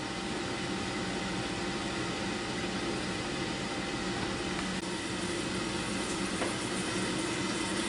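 Steady, even whirring hum of an Instant Pot Duo Crisp air fryer cooking a bacon-wrapped pork loin filet, a constant fan-like noise with no talk over it.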